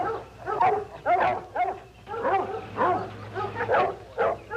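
Several dogs bark and yip in quick, overlapping bursts, fairly close and loud, a pack being readied for a chase in an early-1960s television drama.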